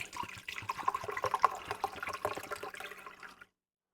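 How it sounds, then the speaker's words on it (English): Liquid organic pest control mixture being strained, a steady trickling pour of water-like liquid running for a few seconds at close range before stopping abruptly, with no voices. "So I have rinsed that, and now I'm going to strain one more time."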